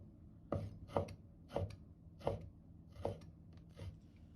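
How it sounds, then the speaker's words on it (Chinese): A knife chops through pork front-leg fat on a board into thin slices, six firm, evenly spaced cuts about every half second, close and clear with no talking. "先把肥肉改刀切成薄片"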